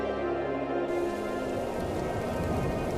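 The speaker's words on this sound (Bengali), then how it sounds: "এ তো দেখছি শিলাবৃষ্টি শুরু হয়ে গেছে" A steady, dense hailstorm patter in a cartoon on a winter day, an even hiss of falling ice and rain that holds throughout with no voices.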